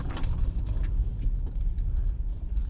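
A car creeps through a tight gap between two parked cars, its engine a steady low rumble throughout with small mechanical rattles and jingles above it, close and continuous, with no one talking.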